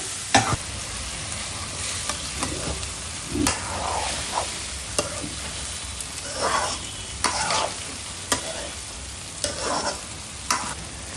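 Shrimp and raw banana frying in a pan, a steady close sizzle with periodic scraping stirs and spoon knocks against the pan, no voices.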